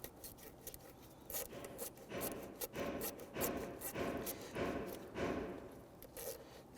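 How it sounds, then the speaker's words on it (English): Hose clamp being secured at the throttle body of a 2008-2013 Infiniti G37 3.7L V6, heard as close, repeated rubbing and scraping strokes in a steady rhythm with no talking. "Up on top at the throttle body, we can now secure the clamp here."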